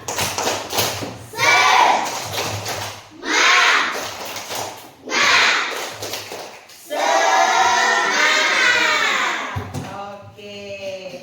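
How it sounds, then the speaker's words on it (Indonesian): A school class performs a rhythmic spirit clap: several patterned bursts of group clapping, each separated by short pauses, with children's voices chanting along and louder toward the end. "Kita coba tepuk semangat."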